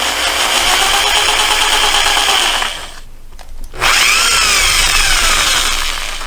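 A power drill spins against an ATV engine valve, a loud close whirring that drops out briefly midway, then revs back up and runs steadily.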